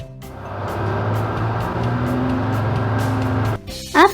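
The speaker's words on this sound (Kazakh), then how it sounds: "Автобус." A bus engine runs with a steady, loud rumble for several seconds, then cuts off abruptly, followed by a short high chirp.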